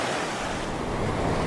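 Small stream running down a slope, a continuous broadband rush of flowing water, steady and moderately loud with a windy, noisy texture and no voices.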